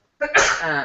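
A single sharp sneeze bursts out after a short inhale, close and fairly loud, trailing into a breathy, voiced release during a training session.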